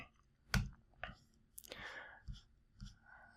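A single computer mouse click opening an RDP file for a Windows Server connection, sharp and close, surrounded by a few faint clicks and soft breathy noise in a quiet room.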